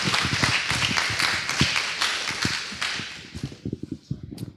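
Small lightning-talk audience giving sparse, fairly quiet applause after a presentation, a brief patter of hands that fades into a few scattered individual claps.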